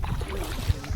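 A boat on the water off the coast at Vizag, carrying passengers out to an island, gives a low rumbling drone with some wind and water noise, steady and fairly close, with no voices over it.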